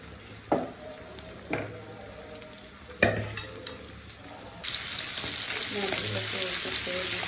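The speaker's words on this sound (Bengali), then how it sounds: "আমি কড়াইতে তেল দিয়ে দিচ্ছি, এখন হচ্ছে মাছগুলো ভেজে নেব।" Fish sizzles in hot oil in a wok, with sharp clatters as pieces drop in, followed by a loud, continuous crackling fry.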